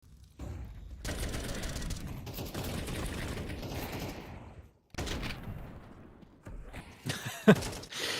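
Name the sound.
gunfire in the video game Counter-Strike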